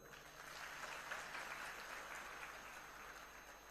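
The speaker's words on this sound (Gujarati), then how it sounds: "આટલું બધું કરતા હોય તો માનનીય મોદી સાહેબ માટે તાળી પાડી દે" A crowd of farmers at a rally in Gondal clapping, a sustained, fairly distant wash of applause that holds steady without pause.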